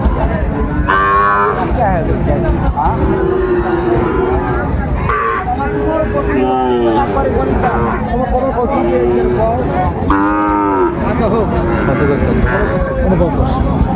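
Sahiwal bull calves low repeatedly at a busy cattle market in Dinajpur, loud drawn-out moos rising over steady crowd chatter and nearby voices.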